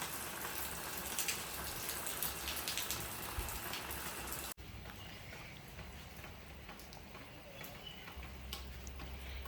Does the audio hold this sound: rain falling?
yes